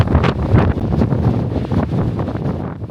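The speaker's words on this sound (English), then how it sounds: "Still windy." Heavy wind on a hiking trail in Utah's Henry Mountains buffets the microphone in loud, rumbling gusts that roar continuously with no voices.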